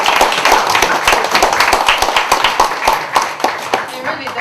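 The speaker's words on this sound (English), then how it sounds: "Shall we give him a big round of applause?" Applause from an audience at a pottery project event honoring pottery expert Master Sunud, with dense, sharp claps rising steadily in a lively crowd, some voices mixed in.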